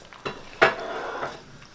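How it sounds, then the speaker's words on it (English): A spoon stirring a pot of vegan unstuffed cabbage, giving a few clanks and scrapes against the metal with a louder knock near the start, fairly close and without talk. "Give that a good stir."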